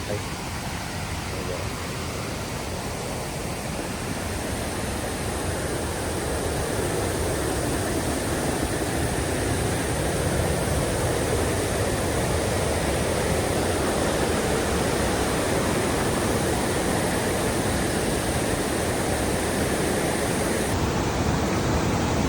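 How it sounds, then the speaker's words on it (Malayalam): Water rushes steadily through the tunnel at Anchuruli waterfall, a loud, dense, continuous roar that fills the whole stretch without a break. "ഇതാണ് കേട്ടോ തുരങ്കം. ഇതുവഴിയാണ് വെള്ളം വരുന്നത്."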